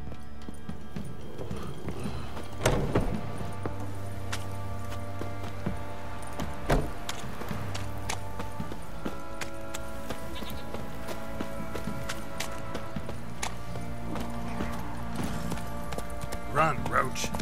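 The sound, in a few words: Geralt's horse Roach galloping, from video game The Witcher 3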